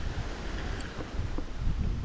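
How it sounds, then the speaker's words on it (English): Strong ocean waves at Gokarna beach in India roll in as a steady, loud broadband wash of surf mixed with wind, with no pauses and no voices. "The waves here are pretty strong."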